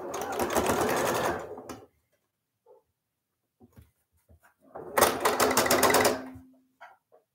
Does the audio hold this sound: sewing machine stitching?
yes